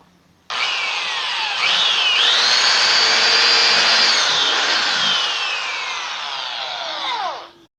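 A power drill bores into a wooden slat for a screw, a loud continuous whine that shifts pitch as the bit bites and slows, running about seven seconds before winding down.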